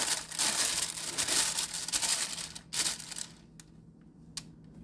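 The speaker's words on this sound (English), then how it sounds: "I'm going to line with parchment paper." Crisp parchment paper crinkling and rustling up close as loaf pans are lined, busy at first, then thinning to a few scattered crackles near the end.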